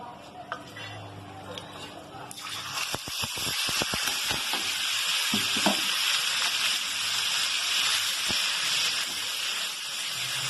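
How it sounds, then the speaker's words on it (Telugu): Onion paste hits hot oil in a kadai and sets off a steady, broad sizzle that grows louder and holds, with a few sharp spatters and utensil clinks near the start. "ఇప్పుడు నేను పేస్ట్ కూర కోసం కడాయిలో ఈ ఉల్లిపాయలు వేసి వేయిస్తాను."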